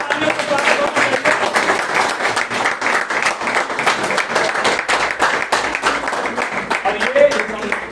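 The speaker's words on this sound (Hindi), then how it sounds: "जोरदार तालियों से स्वागत होना चाहिए।" A theatre-festival audience claps steadily for the best actress award at a drama festival. The dense applause fills the hall for the whole stretch, with voices mixed underneath.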